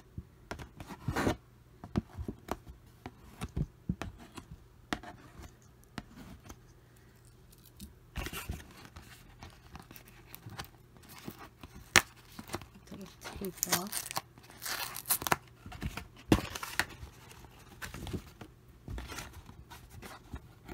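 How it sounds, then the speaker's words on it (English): Small scissors snip stitches from delicate fabric on a doll's party dress, with small snips and faint crisp cuts close up in short irregular bursts and soft handling rustles between them. "Handy dandy little scissors."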